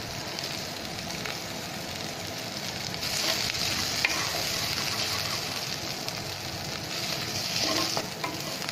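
Ginger garlic paste frying with onions in a pan for dhania rice: a steady, close hiss of sizzling oil with occasional soft stirring sounds.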